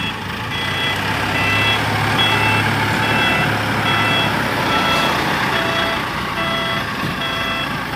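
A dump truck hauling stones, its engine rumbling steadily nearby while a reversing alarm beeps in a regular repeating pattern over the whole stretch.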